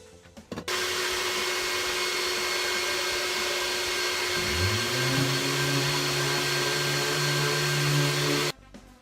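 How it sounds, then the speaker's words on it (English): A power sander works over legs cut from pallet wood, a steady loud whirring roar that runs unbroken for about eight seconds, with the motor's pitch shifting partway through before it cuts off. "that's them sanded down"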